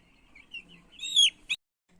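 A chicken gives a few short clucks and a higher squawking call, close by, with a quick sharp note at the end followed by near silence.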